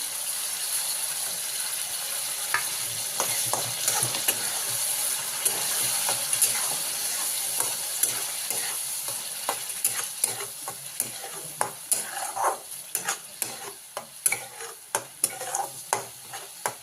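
Pureed onion and tomato paste fry in a pan for village-style chicken rassa curry, giving a constant sizzle with repeated scraping stir strokes that grow sharper and more frequent toward the end, with no talk.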